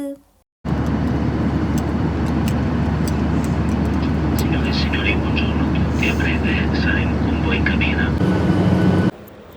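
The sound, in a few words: Ryanair airplane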